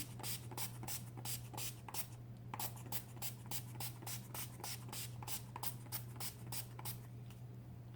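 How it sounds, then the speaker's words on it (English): Rapid, repeated short hissing bursts of a setting spray pump, many quick spritzes in a row over a low steady hum. "So I'm gonna spray this on."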